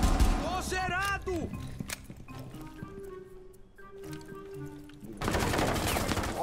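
Bursts of rapid gunfire in Rainbow Six Siege rattle near the start and again at the end, with a quieter stretch of game sounds between them.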